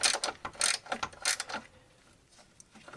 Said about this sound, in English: I got two 15 millimeter wrenches here. You got to hold one side to take off the other side.